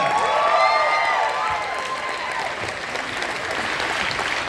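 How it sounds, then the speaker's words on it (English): Audience applause and some cheering fill a hall after a Q&A screening of the film Maria with director Pablo Larraín, dense and steady, loudest at first and then easing a little, with a stray voice rising above the clapping. "how about another one for this really fantastic film, Maria?"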